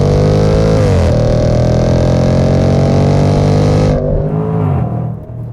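A loud, close SUV engine roars with its exhaust valve opened, a sustained deep growl climbing steadily in pitch under acceleration before dropping away as the throttle is lifted.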